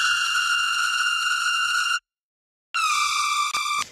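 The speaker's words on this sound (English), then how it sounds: "This is a dual sine wave here, and it's just distorted like crazy." Heavily distorted dual sine wave synth lead with reverb plays two sustained, buzzy harmonic-rich notes separated by a short silence, the second gliding slightly in pitch.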